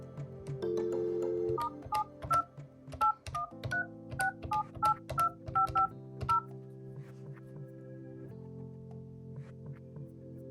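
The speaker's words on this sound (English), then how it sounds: "you will do so by pressing this forward main button, followed by *72, and then the phone number of your after hours service." Telephone keypad tones beep one after another as *72 and a phone number are dialed on an office phone to set up call forwarding, a steady run of distinct touch-tone pulses with no talking.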